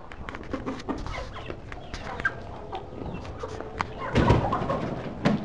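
A flock of chickens clucks and chatters around corn being scattered in a yard in São Paulo, with a rooster among them, soft overlapping calls building to a louder flurry near the end.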